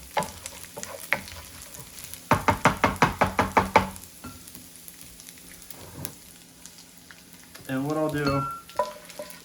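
Bacon frying in grease in a pan gives a soft sizzle, broken by a quick series of sharp metallic knocks and later a louder burst of spitting fat. Someone speaks briefly.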